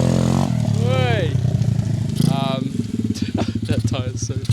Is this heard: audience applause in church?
no